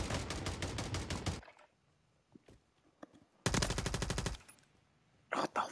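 Automatic gunfire in the Warzone video game: two long, loud rapid bursts separated by a quieter gap with scattered single shots, then a shorter burst at the end.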